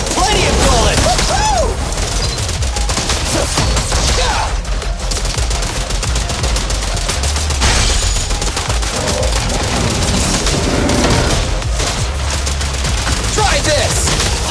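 Rapid, dense gunfire from the video game Zenless Zone Zero, a loud continuous barrage of shots and impacts mixed with game music and effects, with voiced character shouts breaking in at times.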